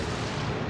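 A warship's main gun fires in World of Warships, a short heavy low boom with a rumbling, dense blast filling the whole moment.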